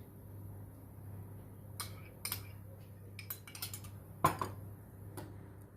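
A spoon stirs crushed digestive cookies with melted butter, sugar, salt and cinnamon in a bowl for a cheesecake crust, giving a few faint, sparse clinks and scrapes against a quiet background.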